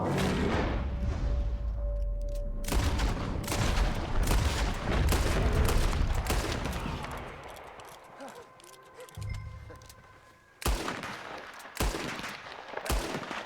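Repeated gunshots crack out in Red Dead Redemption 2, loud, irregular bursts of rifle and pistol fire with booming echoes, trailing into a brief lull before several more sharp shots, with faint voices underneath.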